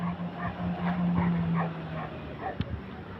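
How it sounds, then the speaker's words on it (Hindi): A pet dog at home gives a few short yips and whimpering barks, close and moderately loud, with household background noise and a steady low hum. "अभी बुलेट देखना कैसे भौंकेगा।"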